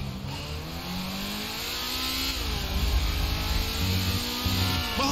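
A big motorbike with a 140-cubic-inch engine revs in the GTA 5 video game, its engine note climbing and dipping in steady, loud pulls over a constant rumble.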